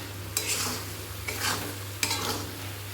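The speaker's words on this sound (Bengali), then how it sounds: "নাড়ানো হচ্ছে, কষিয়ে নিচ্ছি।" Mutton masala with a splash of hot water being stirred in a pan: three scraping sweeps of the spoon at a steady pace over a soft simmering sizzle and a low steady hum, close and alone.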